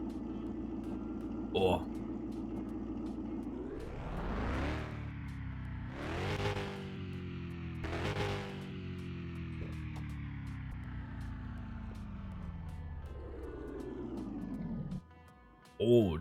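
A Ford F-350 truck engine in a video game, swapped to 900 HP, cranks to life, then revs hard several times with rising and falling roars before settling and cutting off; a voice briefly exclaims.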